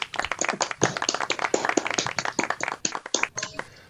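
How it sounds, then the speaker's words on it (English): Scattered applause over a video call, separate claps from several participants arriving as uneven, clipped bursts that sound close and slightly compressed, fading toward the end. "More applause."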